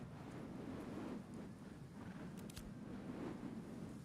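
Video game thunderstorm with strong wind, a constant low roaring rumble of gusts and rain with a couple of brief sharp crackles partway through, steady and fairly quiet, no talk.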